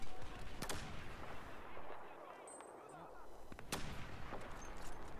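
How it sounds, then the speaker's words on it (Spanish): Single rifle shots from an SLR in Battlefield 4, a few sharp cracks spaced apart at moderate loudness over a steady background of game ambience. "¡Qué tiraco con el SLR!"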